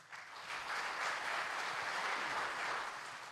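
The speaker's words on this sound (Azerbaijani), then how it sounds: "mən sizi alqışlayıram və özünüzü alqışlayın" An audience at a Muğam music competition applauds with steady, dense clapping that swells and holds for a few seconds without speech.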